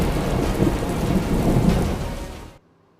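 Heavy rain pours in Vadodara with rumbling thunder, a dense, loud wash of rainfall and low rolling rumble that ends abruptly.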